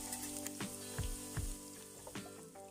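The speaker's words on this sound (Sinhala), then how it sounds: "දැන් බෙදලා තියෙන්නේ මම මේ විදිහට තෙලෙන් බා ගන්නවා." Chicken pieces frying in hot oil for a Sri Lankan chicken devilled dish, a steady close sizzle punctuated by a few sharper spits and pops.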